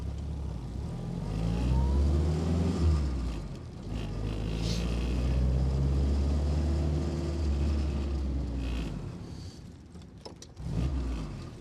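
A WW2 jeep engine revs and drops as the driver blips the throttle while shifting gears, the pitch rising and falling in repeated swells, close and fairly loud, with a sharper burst near the end.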